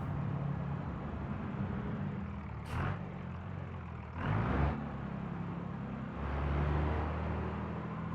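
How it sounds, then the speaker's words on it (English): An MD70 dump truck engine in BeamNG drones steadily at low pitch with a faint rear differential whine, broken by a couple of short hissing air bursts, like brakes releasing. "Sounds like it's got a little bit of rear end noise to it,"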